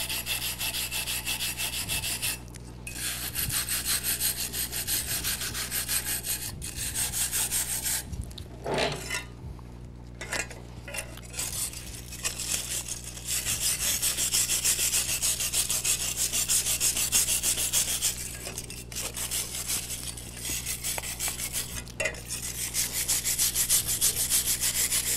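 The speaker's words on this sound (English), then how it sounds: "it is much faster with the cylindrical wire brush" A cylindrical wire brush scours rust off metal with loud, continuous rasping and scrubbing, broken by brief pauses between passes, close up and with no speech.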